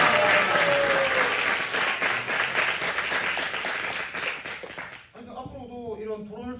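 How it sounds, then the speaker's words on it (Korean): A small audience at a judo gym claps in a sustained, fairly close round of applause that thins out over about five seconds before a voice starts speaking. "박수 한번 주세요"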